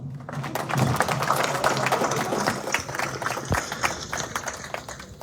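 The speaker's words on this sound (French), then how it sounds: "Vous pouvez applaudir." Audience applause fills a hall at an awards ceremony marking the signing of an education convention, a steady dense patter of many hands clapping, moderately loud and close, sustained throughout with little talk.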